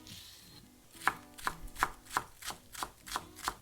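A knife chops a long green onion on a cutting board in a Korean vegan kitchen, about eight crisp, evenly spaced knocks, close and clear with no talk.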